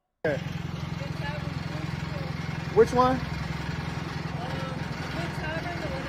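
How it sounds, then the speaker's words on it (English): A car engine with a rough, failing sound idles steadily and closely throughout, with a brief louder surge partway through and a short spoken question over it. "It sounds like the engine is about to fall out of it."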